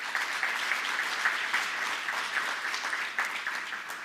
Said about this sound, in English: worthy of a round of applause